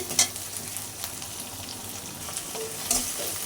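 Mixed fish and mixed vegetables being stirred as they fry in a pan, a soft steady sizzle with a couple of sharp utensil scrapes at the start and near the end, close and unaccompanied by speech.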